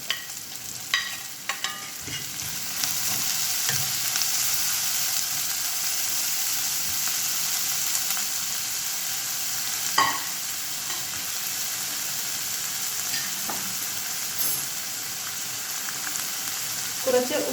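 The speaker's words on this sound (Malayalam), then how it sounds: "ഉള്ളിയുടെ കൂടെ ബാക്കിയുള്ള ഇഞ്ചിയും വെളുത്തുള്ളിയും കൂടെ ചേർക്കും" Onion sizzles and fries in a pan with ginger and garlic. The frying is a steady crackling hiss with occasional louder pops and stirring clinks, and no voices are heard.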